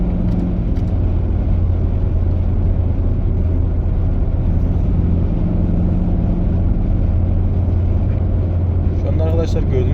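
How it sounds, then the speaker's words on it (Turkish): A loud, constant diesel engine and road drone from inside a 2012 Ford Fiesta 1.4 TDCi 70 PS at about 120 km/h, steady throughout with no breaks. "Yani biraz motor sesi var içeride."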